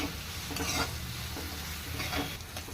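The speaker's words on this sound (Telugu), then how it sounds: "ఆనియన్స్ ఇలా గోల్డ్ కలర్ వచ్చే వరకు వేయించుకున్నాం కదా" Onions and green chillies fry in a pan with a steady close sizzle, broken by a few stirring scrapes.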